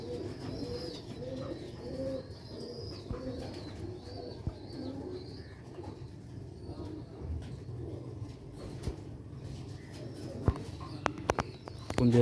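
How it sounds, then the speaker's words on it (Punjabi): Pigeons cooing in crates, several birds giving repeated low rolling coos close by, with faint chirps and a few clicks and knocks toward the end. "ਮਾਸ਼ਾਅੱਲਾ ਕਬੂਤਰ ਹਲੇ ਕਰੀਚਾਂ 'ਚ ਪਏ ਦੇ ਨੇ"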